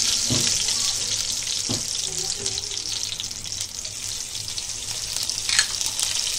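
Curry leaves and green chillies sizzle in hot oil for a Konkani salan, a steady loud hiss of frying with a few sharp spits and clatters throughout.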